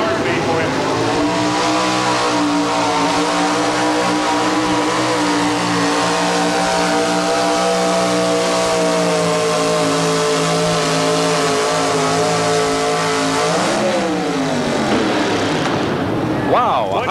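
An early model Chevrolet truck's engine roars loud and sustained through a truck pull, holding a steady high-revving drone with a brief dip near the end, under an announcer's voice.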